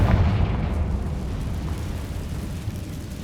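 A Confringo fire spell explodes in Hogwarts Legacy, a loud booming burst at the start that fades into a dense rumbling roar over a few seconds.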